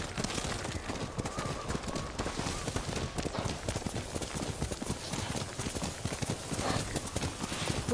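A horse gallops through snowy weather in Ghost of Tsushima, rapid loud hoofbeats drumming in a steady driving rhythm close by, with wind noise underneath and no talk over it.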